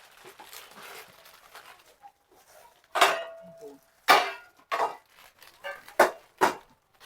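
Steel kitchen utensils, plates, cooker containers and glasses clank and knock together in a handful of sharp, close metallic hits spread irregularly over the stretch, with quieter shuffling between them.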